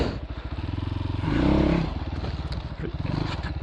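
A Christini all-wheel-drive 250cc dirt bike blips its throttle, then surges in one strong revving burst on a single-track trail, close and loud over steady engine chugging.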